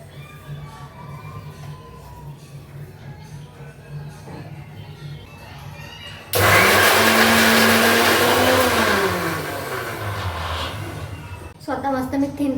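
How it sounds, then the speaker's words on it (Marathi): A kitchen mixer grinder whirs loudly as it grinds sautéed onion, garlic, ginger and coconut into a paste, a sudden steady roar that runs for several seconds and then drops, with someone talking before it starts. "सो आता हेच सगळं मी ना मिक्सीला आहे ना बारीक करून घेते."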